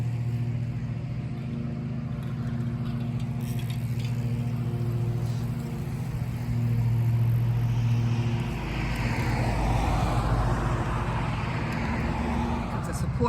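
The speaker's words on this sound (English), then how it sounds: "It's a support vehicle." A support vehicle drives past outdoors, its engine and tire rumble swelling steadily and peaking near the end, while people talk over the passing traffic noise.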